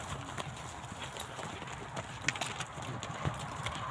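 Horses clip-clopping at a trot along a rugged safari trail through nature, the hoofbeats steady and fairly close over an outdoor wind-noise background, with a faint voice in the distance.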